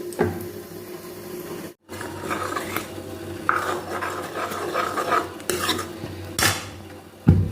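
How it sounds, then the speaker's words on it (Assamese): Thick spice paste tipped into a hot pan of potatoes, tomatoes and peas, with scraping and clinking of a spoon against the pan and a soft sizzle running steadily underneath, close and fairly loud. "পেষ্টখিনি বাকি ইয়াত দিছোঁ"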